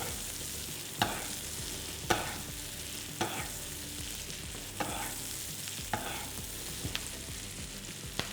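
A rib eye steak sizzles steadily in a hot pan, a constant frying hiss punctuated by roughly once-a-second clicks and taps of a utensil, close with no talking.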